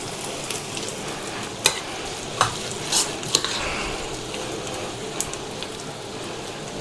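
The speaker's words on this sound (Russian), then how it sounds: "сейчас жарим, пока не пожарим" Buckwheat and mushroom cutlets sizzle steadily in a frying pan, with a few sharp clicks and scrapes from a utensil against the pan.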